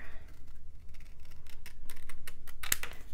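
Scissors cut marked paper for a mini album in quick repeated snips, close and crisp, with a rhythmic series of short cuts and faint handling rustle.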